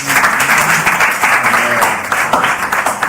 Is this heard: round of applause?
yes